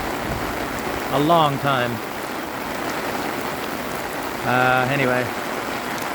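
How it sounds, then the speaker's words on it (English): Heavy rain pours outdoors in a dense, steady hiss of drops throughout, with someone speaking briefly over it twice. "wow, incredible rain."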